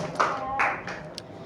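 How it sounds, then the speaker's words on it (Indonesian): A class in a school lesson gives a short round of clapping: a few scattered bursts of hand claps, fairly close, with brief pauses between them. "Berikan tepuk tangan."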